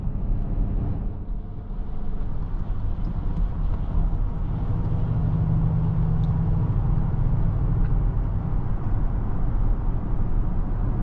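Steady low engine and road rumble from a 2022 Acura MDX A-Spec SH-AWD accelerating on a snowy road, a smooth continuous drone heard from inside the cabin with a slight rise in pitch.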